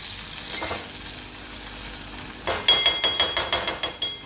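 Potato and cauliflower sabji cooks in a pan with a soft sizzle, then a run of about eight sharp, evenly spaced clinks of a utensil against the pan ring out close and clear.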